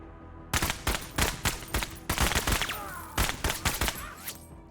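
Gunfire in the tactical game Menace, a string of sharp, loud shots in quick bursts, a dozen or more reports with brief gaps, close and clear after a short silence.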